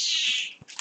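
A cat meows once, a short, high, clear call close by, followed by a faint thump and a brief softer trailing note.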